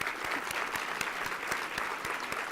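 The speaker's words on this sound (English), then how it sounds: "These women are the ones responsible for this great luncheon and deserve a round of applause." Applause from a luncheon audience honoring the event's committee, steady and moderate in volume with a few sharper claps standing out, no voices on top.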